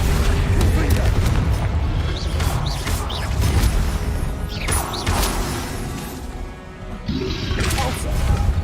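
Confringo spell blasts in the Hogwarts Legacy video game, several booming explosions and crashes in quick succession amid busy game effects, with a voice talking throughout.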